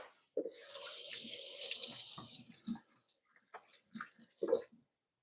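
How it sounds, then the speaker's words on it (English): A kitchen tap runs as hands are washed under it, a steady close splash for about two seconds, then stopping, followed by a few scattered drips, clunks and handling noises. "Wash my hands real quick."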